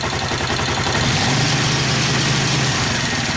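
A Suzuki TU 250 X motorcycle engine running with no choke, a steady loud idle-like drone with a low throbbing hum that swells slightly midway, heard alone and close.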